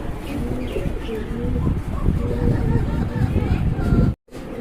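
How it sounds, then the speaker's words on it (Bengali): Kashmiri racer pigeons coo repeatedly, close by, with soft chirps and faint background noise between the calls. "এখানে কিন্তু আরো এক জোড়া কবুতর আছে"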